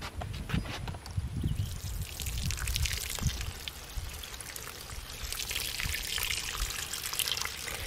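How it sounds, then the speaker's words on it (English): Water pours onto vegetable plants in pots, a continuous splashing trickle into soil with some soft knocks early on, with no one talking. "and then we water them in."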